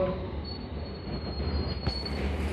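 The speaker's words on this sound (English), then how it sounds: "now arriving is my train to Chesham 21063" A London Underground Metropolitan line train pulls into a platform with a loud, sustained high wheel squeal over a rumbling, clattering roll.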